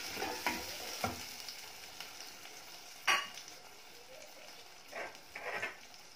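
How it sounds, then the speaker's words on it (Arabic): Egyptian tomato sauce (tasbeeka) stirred in a pan while cooking moussaka without oil, giving soft scraping stir strokes with a low sizzle and a few sharper utensil knocks, no talking. "وهقلب التسبيكه بتاعتي معاكم"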